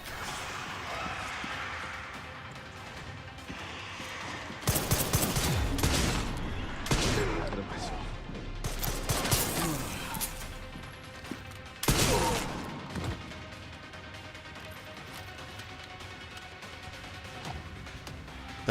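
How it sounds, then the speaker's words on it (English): In the video game Resident Evil Requiem, stacked grenades go off in a burst of loud blasts and crashing debris over tense background sound, followed by a second heavy detonation and quieter ambience. "Even better, I have a stacked grenade."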